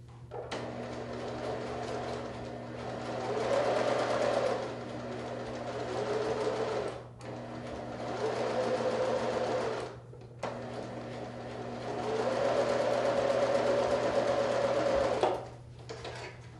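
A sewing machine stitches pieced quilt sections together in several steady, whirring runs of a few seconds each, separated by short pauses, over a constant low electrical hum.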